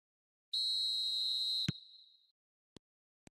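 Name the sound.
referee whistle in a football video game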